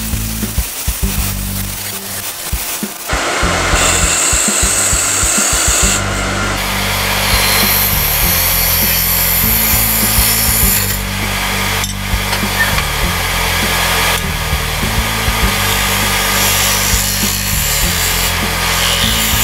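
Spindle gouge shaping a spinning wooden ring holder on a woodturning lathe: a steady motor hum with harmonic tones under loud, scraping cuts that start and stop in several passes, near and continuous.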